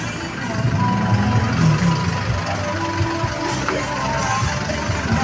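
Busy city street traffic on the way to EDSA, with a steady, loud rumble of trucks, buses and car engines passing close by and a low hum throughout.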